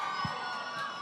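An outdoor crowd at a town Christmas tree lighting event, cheering and shouting together, a brief dense burst at a moderate distance.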